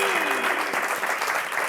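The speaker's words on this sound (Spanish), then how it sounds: "Un aplauso ahora sí para la banda del programa." A studio audience claps for the show's band in a brief, dense burst of steady applause.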